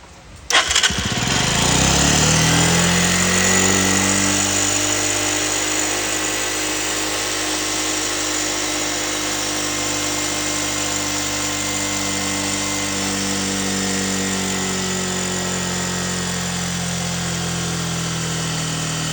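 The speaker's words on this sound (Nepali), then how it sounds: "अब हामी यसलाई बाइक स्टार्ट गर्दैछौँ" A freshly tuned motorcycle in a garage in Birtamod, Jhapa, fires up after a brief crank and settles into a loud, close, steady running engine note with slight rises in revs.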